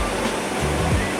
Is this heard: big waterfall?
yes